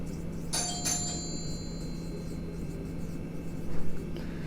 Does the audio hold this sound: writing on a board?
yes